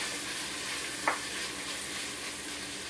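Noodles fry in a hot pan for curry noodles with a faint, even sizzling hiss and a single soft utensil tap midway.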